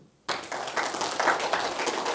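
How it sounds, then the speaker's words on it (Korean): A church congregation at Daejeon Bible Baptist Church bursts into applause during a Sunday service, a dense, steady wash of clapping that starts abruptly after a brief silence and holds at an even level. "박수!"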